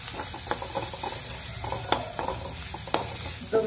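Turmeric, coriander and red chili powder are stirred into onions in a frying pan, a spoon scraping and clinking in irregular strokes over a soft sizzle, close by with no talking.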